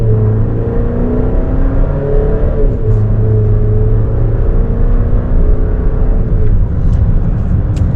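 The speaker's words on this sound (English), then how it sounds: "You're going to get some noise out of this turbo 4 that's in here." A 2026 Chevrolet Traverse RS with a turbocharged four-cylinder engine and 8-speed automatic accelerates, its engine drone loud and continuous with rising tones and a smooth shift midway.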